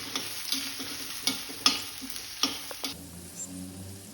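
Onions, crushed garlic and curry leaves fry in hot oil while being stirred, with close, irregular scraping stirs over a steady sizzle that drops to a quieter simmer near the end.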